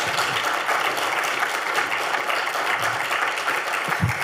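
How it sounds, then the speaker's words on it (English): A talk audience applauds in a dense, steady wash of clapping that lasts a few seconds, heard from within the room with no voices over it. "can we have a huge round of applause for Hayley Campbell?"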